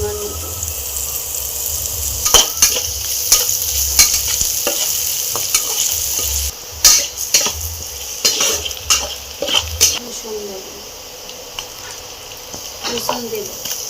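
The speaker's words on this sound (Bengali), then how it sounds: "এর মধ্যে আমি দেবো পেঁয়াজটা আমি লাল লাল করে ভেজে নেব।" Onion frying in a pan for a potol and potato dorma curry, a steady sizzle under repeated sharp clinks and scrapes of a stirring spatula against the pan.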